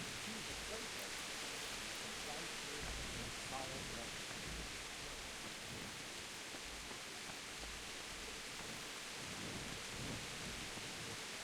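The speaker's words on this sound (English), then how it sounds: "The rain sound is really nice." Steady rain falling in Kingdom Come: Deliverance, a dense even hiss of drops hitting the ground with a low rumble beneath, continuous and uniform throughout with no break.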